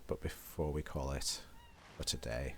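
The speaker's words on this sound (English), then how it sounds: "Apologies if you heard a cat kicking off in the background of" A cat meows and yowls in the background, several drawn-out cries rising and falling, while someone talks over it during a gaming session.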